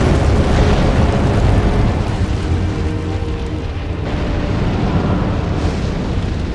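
A Fire Giant hurls a fireball in Elden Ring, a loud, dense rumbling roar of flame and blast that fills the whole stretch continuously, with a slight dip midway and no talking.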